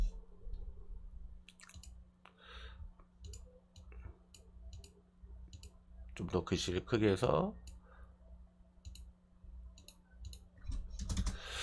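Keys on a computer keyboard click in scattered bursts while text is typed into Notepad, close and crisp, with someone talking over part of it.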